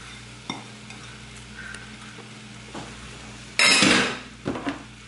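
A spatula scrapes and clatters against a pan while ground meat fries with a soft sizzle, with scattered taps and one loud harsh scraping burst near the end.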